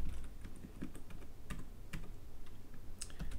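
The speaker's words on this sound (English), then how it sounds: "let me just finish quickly typing some of this up" Rapid, uneven keystrokes on a computer keyboard while Python code is entered for a Flask web server, close and steady with no voices.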